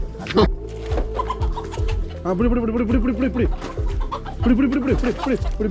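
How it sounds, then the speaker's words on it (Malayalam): Chickens cluck and squawk close by in short repeated bursts, some calls rising sharply, with no talking. "നമ്മൾ ഈ വീട്ടിൽ നിന്ന് കോഴിനെ ഓടിച്ചിട്ട് പിടിക്കണം"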